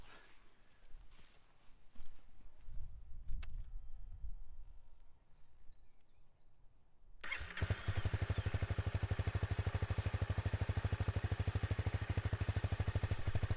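A Honda CRF 250 Rally motorcycle engine catches after quiet outdoor sounds, faint birdsong and some footsteps and clatter, then idles loudly and steadily with a fast, even single-cylinder pulse close by.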